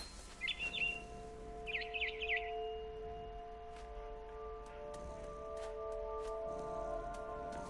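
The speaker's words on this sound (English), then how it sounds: "Then I heard chirping outside my window. It was a barn swallow going back to her nest." A barn swallow chirps in two quick bursts of bright, twittering calls near a window in What Remains of Edith Finch, followed by a soft steady hum and faint drips, with no voices.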